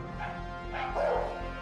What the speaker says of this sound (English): learning how dogs communicate with each other through barking